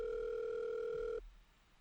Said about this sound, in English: the line finally rings